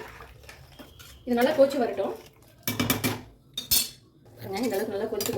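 A metal spoon scrapes and clanks against a cooking pot while rice is stirred into palak pulao, with several distinct clattering strokes mixed with a person speaking.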